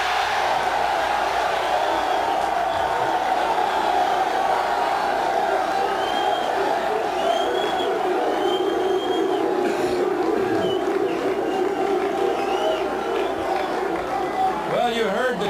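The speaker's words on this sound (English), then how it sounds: "Cheers from the crowd." A large arena crowd at the 1986 NBA Draft keeps up a dense, sustained roar of cheering and chatter from start to finish, loud and continuous.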